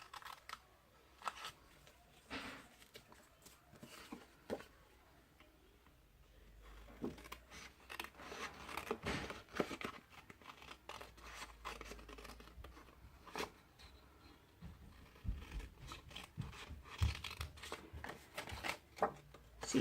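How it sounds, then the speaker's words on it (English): Paper is cut into squares with scissors or a trimmer while a triangular treat box is made, giving soft irregular snips and rustles at close range throughout, with no talk. "So you can see I'm cutting those 2 squares and those 2 squares, and now I'll cut these 2 squares in the corner."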